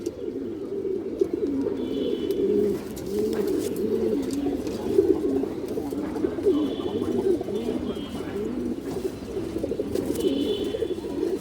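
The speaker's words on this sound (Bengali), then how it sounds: "খুব সুন্দর একটা মাদি কবুতর" Pigeons, including a female, coo continuously in low, throaty rolling calls close by, with faint chirps now and then in the background.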